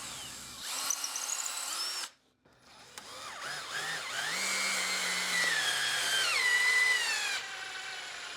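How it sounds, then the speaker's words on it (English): A power drill pre-drills a hole in a small piece of wood during an Adirondack chair repair: a short whirring burst, a brief pause, then a longer, loud, steady whine that changes pitch slightly as the bit bores through. "So I am going to pre-drill that hole."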